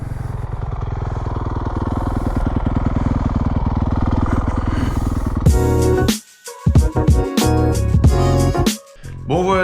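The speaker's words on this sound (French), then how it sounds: "On va essayer de la démarrer à la poussette." A dirt bike, one of a CRF450R, 125 TSX or 450 YZF, being push-started in a field: a steady rough engine drone that breaks into sharp, irregular revving bursts and pauses, close and loud.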